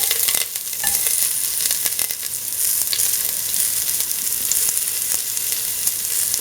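Onion pieces frying in a pan, a loud continuous sizzle with scattered crackles and occasional stirring clicks, close and without any talk.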